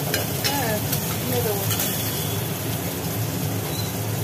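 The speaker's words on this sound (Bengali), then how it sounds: "চিংড়ি মাছগুলো ভাজা হয়ে গেল" Prawns fry in hot oil with a dense, even sizzle that holds steady throughout, close and fairly loud, with a few faint clicks and no speech.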